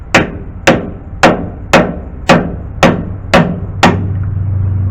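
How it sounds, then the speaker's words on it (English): Hammer blows drive an oil seal into the rear axle of a two-wheel-drive Chevy Silverado, eight sharp, evenly spaced metallic strikes, close and loud, giving way to a steady low hum at the end. "go ahead and start pushing it in, hammer it in"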